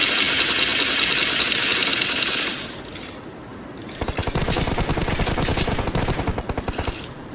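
Automatic gunfire in the mobile battle-royale game PUBG Mobile: a dense rattling burst for a few seconds, a brief pause, then another long rapid-fire volley, loud and close with no talk.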